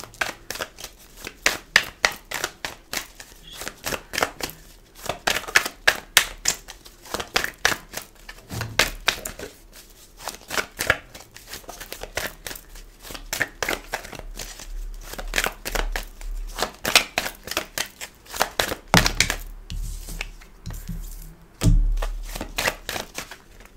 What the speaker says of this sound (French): je vais bien battre les cartes, parce que celles-ci sont dures à mélanger